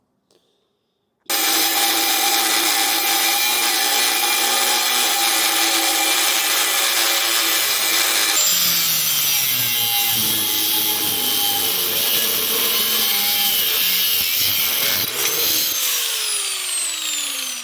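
Power grinder working steel bumper mounting holes on a 2nd gen Dodge, opening up tight holes; a loud, continuous abrasive whine starts abruptly and runs nearly the whole time, shifting pitch partway through as the load changes.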